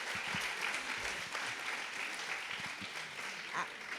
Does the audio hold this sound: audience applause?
yes